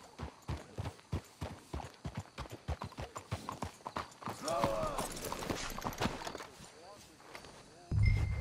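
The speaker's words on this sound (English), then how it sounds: "Let's hitch your horses up ahead." Horse hooves clip-clopping in Red Dead Redemption 2, a steady run of sharp, regular hoof beats on a street in Saint Denis, fairly close, with brief game speech partway through and a louder thump at the end.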